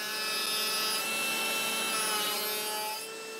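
A saw blade cuts a groove in wood for a modern minimalist bed frame, giving a steady, close, continuous rasping whine with no speech.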